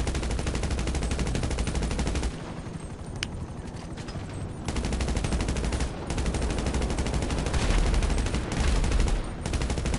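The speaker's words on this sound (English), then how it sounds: "That's what happens when you shoot the tail." Rapid automatic gunfire in a GTA video game, aimed at the tail of a helicopter, rattles on loudly and steadily for ten seconds with brief pauses and the helicopter's drone beneath.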